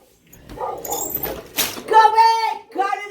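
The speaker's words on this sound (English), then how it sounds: "He's barking at some crackhead." Scooby, a dog outdoors, gives a few sharp barks and then high, drawn-out whimpers, heard from a moderate distance while people talk nearby.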